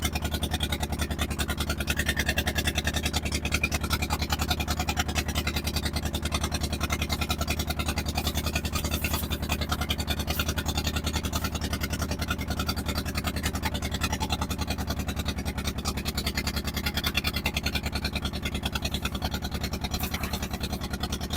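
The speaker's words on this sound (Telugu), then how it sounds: "ఒడ్డుకు మన బోటు ఇప్పుడు చేరుకొని ఉన్నది." A motorboat's engine idles and chugs at the Putlagudem river bank in Palnadu district, a steady low mechanical drone with a faint rattle that holds evenly throughout, moderately close and without talking.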